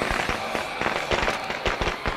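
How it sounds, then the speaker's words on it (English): A firecracker goes off in the video game State of Decay 2, a loud rapid string of sharp crackling pops with uneven rhythm and no talk over it. "See if we can get most of them interested in that firecracker."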